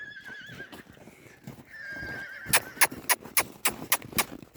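A horse gives a wavering neigh, then a second whinny, followed by a run of sharp, regular hoofbeats close by, with no talking.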